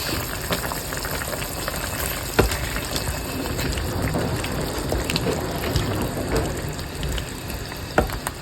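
Anchovies (dilis) hit a hot pan of sautéed bottle gourd (upo) and set off a steady broadband sizzle, with a couple of sharp utensil clicks near the start and end.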